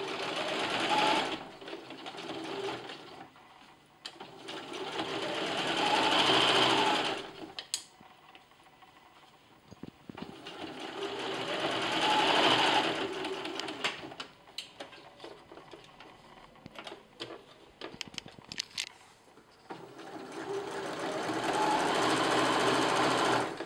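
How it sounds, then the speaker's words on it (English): A sewing machine stitches a 3/8 inch seam along the top edge of a fabric face mask, running in several loud, steady bursts separated by short pauses. "now we're going to sew one seam along the top edge of the mask"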